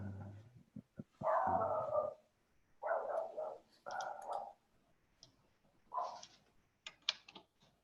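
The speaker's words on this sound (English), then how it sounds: "the neighbour sends the dogs out to bark really loud" A neighbour's dogs bark in short, loud bursts with pauses between them, heard close over a quiet room with faint clicking and no talk.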